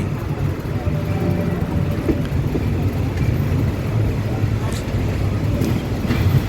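A train running just north of Lopburi station toward a level crossing: a loud, steady low rumble and rattle heard from inside the carriage, with faint clanks.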